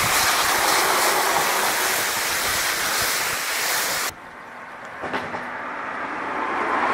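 A car is rinsed with a water jet during polishing work, a loud hissing spray that stops abruptly after about four seconds, leaving quieter dripping and light splashing that builds slightly toward the end.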